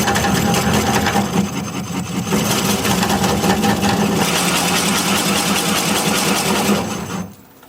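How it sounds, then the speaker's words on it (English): A wood lathe runs at about 300 RPM while a bowl or vase is being turned, giving a loud, steady mechanical hum and whir that fades out at the end, with no talking. "The lathe is going to be spinning at about 300 RPM, and we'll just see what happens."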